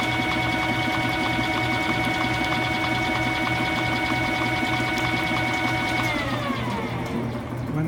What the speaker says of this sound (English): It takes less than a minute, about half a minute